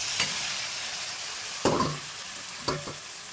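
Dried fish (shutki) stirred in a hot pan, with a steady low sizzle of frying broken by two or three sharp scraping stirs, close and moderately loud, no talking.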